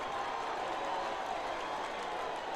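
A high school basketball crowd at a gym roars in a dense, sustained wash of cheering and applause during an Archbishop Riordan versus Sacred Heart Cathedral game, steady and somewhat distant.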